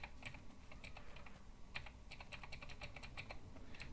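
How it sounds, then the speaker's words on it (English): Fast, steady typing clatters on a backlit computer keyboard, close and fairly quiet, with many crisp key clicks in an uneven rhythm and no talking. "My keyboard has these keys where the back of the key lights up when I press a key."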